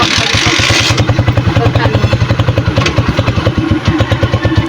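Motorcycle engine revving unevenly as it is started, a loud close-up pulsing chug with rhythmic throttle bursts throughout, with brief talk near the start.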